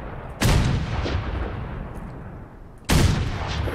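Two heavy, booming gunshots from a big-bore weapon in the Fallout 4 video game, spaced a few seconds apart, each loud and sharp with a long rumbling tail, with no talk over them.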